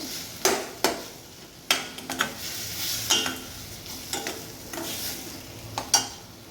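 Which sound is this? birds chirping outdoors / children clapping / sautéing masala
sautéing masala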